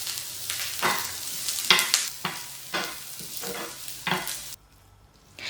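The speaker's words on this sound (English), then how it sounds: "I shallow fry onions until they change color" Onions shallow frying in coconut oil in a small pan, heard as bursts of sizzling and scraping stirs that come in an uneven rhythm, close and fairly loud, before the sound cuts away near the end.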